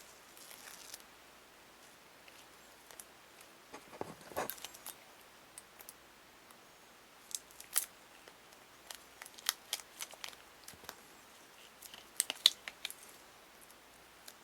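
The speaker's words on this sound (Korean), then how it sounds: "양면 테이프 한번 붙여보죠." Double-sided tape is peeled and pressed onto a ZALMAN CNPS14X CPU cooler part during installation, giving quiet scattered crackles, sharp peeling ticks and soft rustles close by, with no talking.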